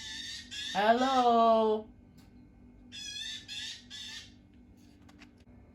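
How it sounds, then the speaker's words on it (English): A young magpie calls for its parents with harsh, raspy squawks outdoors in the morning: one long loud call followed by a shorter burst of repeated chattering notes, with a person briefly speaking nearby. "I think that's a younger magpie, to be honest with you, calling for its parents."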